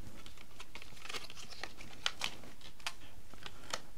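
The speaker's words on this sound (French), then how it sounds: "On va tout de suite la déballer." A square white BlindShell sound beacon being unpacked from its cardboard box, close crinkling and rustling packaging with sharp clicks and tears at an irregular pace, no voices.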